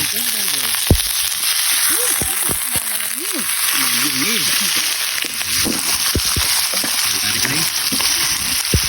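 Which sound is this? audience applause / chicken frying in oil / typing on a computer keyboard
chicken frying in oil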